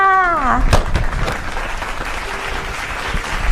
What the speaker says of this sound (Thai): ขอเสียงปรบมือให้กับทอสหน่อยค่ะ